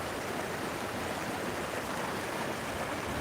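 Seawater surges up through holes in coastal rocks exposed at low tide, a steady, loud broadband rush of churning water that fills the whole stretch without pause.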